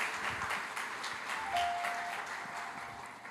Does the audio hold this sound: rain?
no